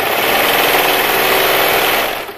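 A serger sews a fabric seam at a 3/8-inch allowance while its knife trims the edge on a bra. The motor gives a loud, steady, whirring hum that holds evenly for about two seconds before easing off.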